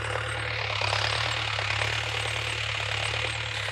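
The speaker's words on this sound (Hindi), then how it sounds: "अब महू ट्रैक्टर चला हूँ आप मन ला दिखाऊँ कि कैसे ट्रैक्टर चलाता मैं" A tractor engine chugs steadily while ploughing a village farm field, a loud, constant mechanical rumble with a rapid rattling pulse, close by and with no talking.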